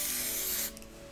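A short hissing burst of makeup setting spray from an aerosol can, held close and steady for most of the moment, then cutting off with a faint click of the nozzle.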